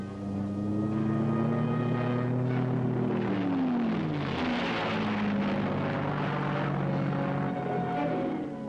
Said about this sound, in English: The fixed-wing spotter planes, nicknamed bird dogs, had the job of guiding aircraft into strikes at enemy positions.